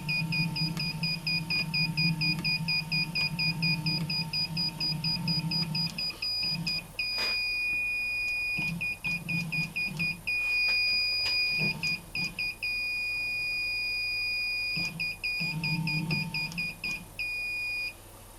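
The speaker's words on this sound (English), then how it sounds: "That's the one thing with this, is it does beep all the flipping time." A Sealy automotive test probe beeps again and again in steady high electronic tones, loud and close, during work on an Audi TT (8N) single wiper conversion, with brief breaks between bursts and low workshop rumble underneath.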